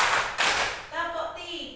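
Grade five schoolchildren in a classroom clap along with a counting game; a burst of hand claps rings out before voices take over chanting.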